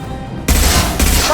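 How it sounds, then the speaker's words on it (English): Concussive shot weapon fired in the sci-fi shooter Mass Effect 2: a sharp, loud blast lands abruptly, followed moments later by a second heavy burst, with combat noise sustained between them. "Concussive shot!"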